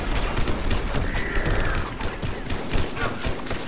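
Gunfire from a Mass Effect firefight, with dense, overlapping shots crackling throughout and a faint birdlike caw in the mix.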